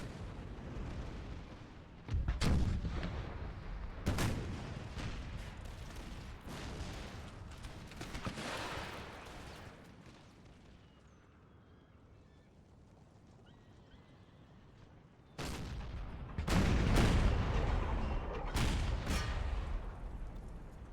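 Cannon fire and musket gunfire from an Empire 2 mod battle, with loud booming bursts early and again near the end, separated by a quieter stretch of low rumble.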